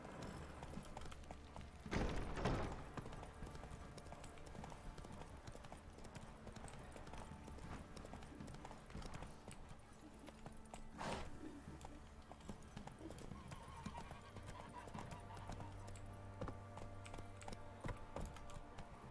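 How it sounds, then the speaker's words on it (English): Horses' hooves clip-clop steadily in a video game, a quiet, even rhythm of hoofbeats with a brief louder thud early on and low game ambience underneath. "come to water the horses."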